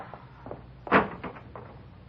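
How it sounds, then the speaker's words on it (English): A street door opened as a radio drama sound effect: a soft click and clatter, then a louder thump of the latch and door, followed by a few quieter knocks and rattles, close and alone. "open the street door"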